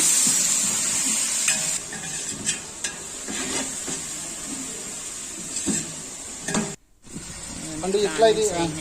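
Onions and curry leaves frying in a pan while being stirred, a steady sizzle under occasional scraping and clinks of a utensil against the pot, with someone talking over it and a brief dropout near the end.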